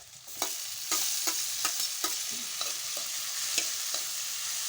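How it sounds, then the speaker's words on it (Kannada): Onions fry in a pan with a soft sizzle while a spoon scrapes and taps through them in quick repeated strokes, close and moderately quiet. "ಉಳ್ಳಾಗಡ್ಡಿ ಮೆತ್ತಗಾಗುವವರೆಗೆ ಕಡ್ಡಾಡ್ಸ್ಬೇಕು"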